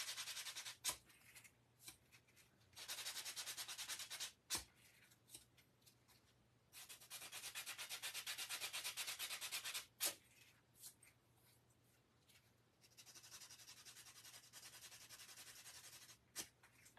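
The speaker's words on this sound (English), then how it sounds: "I'm trying to sand it back to the raw wood, guys. Just on a few corners." Wooden corners sanded by hand with 120 grit sandpaper for a buffalo plaid Christmas centerpiece: several bursts of scratchy rubbing, each a few seconds long, separated by quiet pauses and a few sharp knocks.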